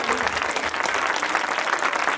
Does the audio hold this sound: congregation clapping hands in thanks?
yes